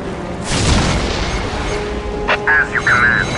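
A Whirlwind artillery tank fires in Warhammer 40,000: Dawn of War, giving one deep booming launch followed by a rumbling tail, with a few short electronic unit chirps after it.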